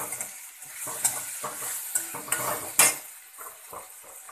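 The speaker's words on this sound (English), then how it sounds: "Now I am adding tomato. I have taken 2 tomatoes." Tomatoes tipped into a hot pan for Bombay sagu, a soft sizzle with light clinks of a utensil against the pan, close and fairly quiet, no talking.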